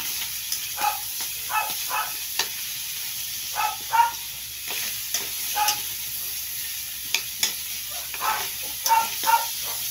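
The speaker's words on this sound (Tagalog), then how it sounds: "lagay na natin yung sibuyas ayan then gisa ulit" Onions sauté in a hot pan for a beef and vegetable dish, with a constant sizzle and short, repeated scraping stirs of the spatula at a steady, close rhythm.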